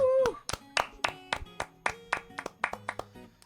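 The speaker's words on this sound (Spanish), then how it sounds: "Un aplauso." A small youth group at a church gathering claps briefly for a pastor, the sharp claps irregular and fading, with a short sung or spoken tone at the start.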